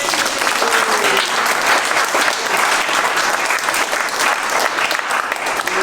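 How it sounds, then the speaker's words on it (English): Sustained applause from a panel discussion audience, dense and steady for the full stretch with no talk over it. "let's give the panelists a round of applause"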